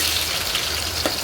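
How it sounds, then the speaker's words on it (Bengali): Chopped onion frying in hot oil seasoned with garam masala for a beef curry, a steady soft crackling sizzle that stays even throughout, close by with no voices. "এর ফাঁকে আমি কিছু পেঁয়াজ কুচি তেলে বেরেস্তা করে নেব।"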